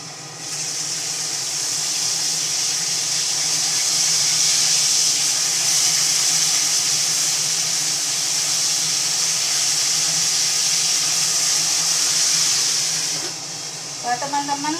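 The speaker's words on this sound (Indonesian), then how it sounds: "kalau goreng ikan itu usahakan ditutup teman ya. Selain minyaknya itu bertaburan" Fish frying in oil in a pan gives a loud, steady sizzling hiss that runs almost unbroken before stopping, followed by a few small crackles and pops.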